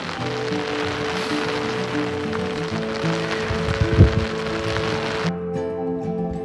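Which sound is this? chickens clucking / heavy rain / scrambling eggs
heavy rain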